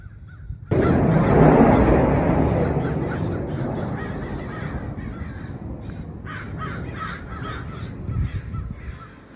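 Crows caw repeatedly outdoors, close and loud, over a steady broadband roar that fades slowly; no one speaks.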